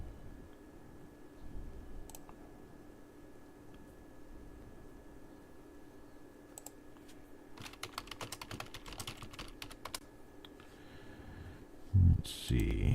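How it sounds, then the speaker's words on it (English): Typing on a computer keyboard starts as sparse taps, then turns into a quick run of clicking keystrokes, with a few heavier knocks near the end over a low background hiss. "I'll type him a message right now"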